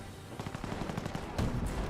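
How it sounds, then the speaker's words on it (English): A squad fires away from behind heavy cover in the strategy game Company of Heroes, rapid rattling gunfire bursts continuing steadily and fairly faint, with no voices. "Our squad firing away behind some good heavy cover."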